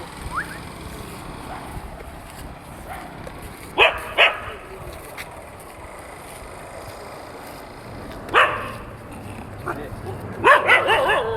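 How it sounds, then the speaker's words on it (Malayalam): Dogs bark in scattered sharp bursts at a moderate distance over a steady outdoor background, with a cluster of barks near the end. "ഇത്രയും പട്ടികൾ നിന്ന് അങ്ങോട്ടും ഇങ്ങോട്ടും കുരയ്ക്കുന്നുണ്ട്."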